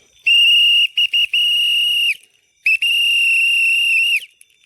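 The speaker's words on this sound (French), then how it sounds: "C'est obligé d'avoir le sifflet toute la nuit pour faire." A loud, shrill whistle is blown at night in the forest to scare away animals, sounding in two long sustained blasts with brief stutters in the first, close and piercing against near silence.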